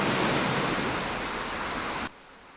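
River water rushes near a Belize village, a dense steady roar close and loud for about two seconds before cutting off abruptly.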